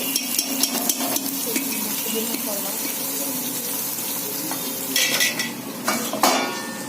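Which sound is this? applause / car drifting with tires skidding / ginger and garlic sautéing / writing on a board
ginger and garlic sautéing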